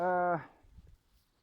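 A single bull moos once in a short, close, loud tone near an electric fence, followed by faint rustling and footsteps.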